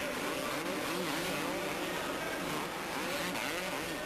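Supercross motorcycles, a Honda among them, race indoors at Paris Bercy in 1996, a dense continuous roar of several engines revving and shifting up and down, loud and close without a break.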